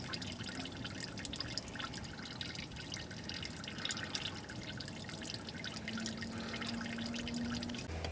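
Antifreeze drains from the cooling system of a 2014-2018 GMC Sierra with a 4.3L V6, a steady continuous trickle and patter of liquid running out, close and moderately quiet, with no talking.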